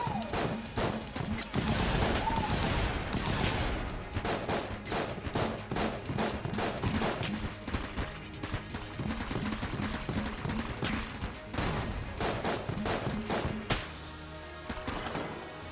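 Rapid bursts of gunfire from the pox cannon in the video game Enter the Gungeon, dense repeated shots and impacts layered over game music, loud and continuous with short pauses.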